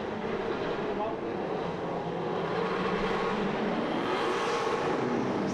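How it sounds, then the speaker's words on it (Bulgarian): Drift cars at a final battle in Plovdiv roar past with a loud, dense, continuous engine noise that sweeps and swells throughout, apparently mixed with a crowd or commentator's voice underneath. "Чувате мощния рев на двигателите, когато минават покрай нас."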